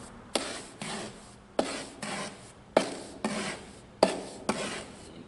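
A bricklayer's trowel rolls and slices a bed of brick mortar in five separate strokes. Each one opens with a sharp scrape and trails off into a gritty rasp, close and alone with no talk.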